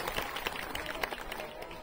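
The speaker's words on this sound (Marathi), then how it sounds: "एकदा जोरदार टाळ्या सरांसाठी होत्या." An audience at a certificate distribution ceremony claps for a speaker, a steady patter of many hands heard at some distance, fairly faint and unbroken.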